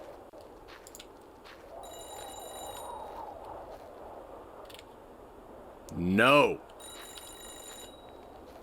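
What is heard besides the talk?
telephone ringing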